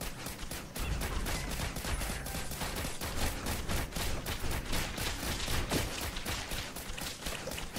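Dense, rapid gunfire from shooting in the video game Risk of Rain Returns, a steady loud barrage of overlapping shots running the whole time with no talk.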